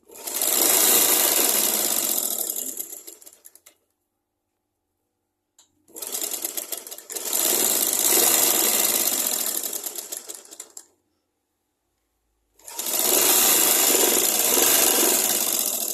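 Sewing machine stitching the body of a blouse, folded one inch, running in three long loud bursts with brief silent pauses between them, no voices.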